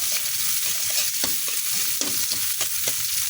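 Onions frying in a pan for a Bisaya-style dish, with a steady close sizzle and several sharp scrapes and clacks of a utensil stirring through them.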